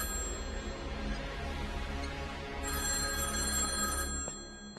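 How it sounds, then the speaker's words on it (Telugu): A telephone rings continuously indoors at a moderate level, a steady electronic trill that shifts to a brighter tone partway through before cutting off near the end, with no talk over it. "ఆ ఫోన్ నీకా నాకా?"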